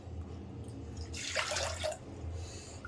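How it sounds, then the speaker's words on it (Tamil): Water poured into a pot of washed lentils for cooking, a bright splashing stream swelling in the middle of the clip and then easing off over a low steady hum, with no voices. "பாருங்கள், 2 கப்பு தண்ணி ஊற்றிக்கணும்"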